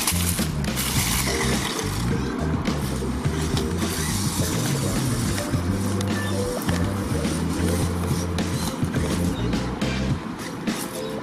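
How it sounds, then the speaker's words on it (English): Car traffic and gusting wind outside a house, a steady broadband rumble and whoosh running continuously at moderate level with no clear pauses. "so I'm sorry about all the car noise and wind noise"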